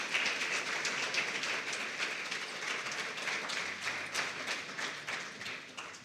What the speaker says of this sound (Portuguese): Era a hora de você aplaudir Jesus.